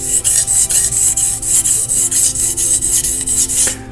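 A knife blade is pushed and pulled across a Zwilling Kramer 1k whetstone in quick, rhythmic rasping strokes, about four per second, close and loud with no talk.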